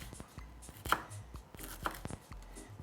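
A knife chops through unpeeled ginger on a board in a quick series of close, crisp taps, with a few sharper louder strikes among softer ones and no talking.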